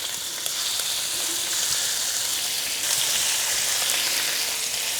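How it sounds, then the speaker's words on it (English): Steady crackling sizzle of lamb frying in hot ghee over moderate-to-high heat, close and continuous, a dense hiss that swells slightly partway through. "I'm going to leave them sizzle for a few minutes"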